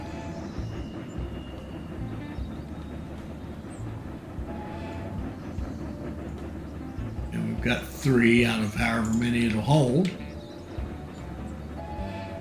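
A freight train in the railroad management video game Railroad Corporation 2 rumbles along its track, with a brief rise of rolling clatter and squealing in the middle, while someone talks over the game sounds.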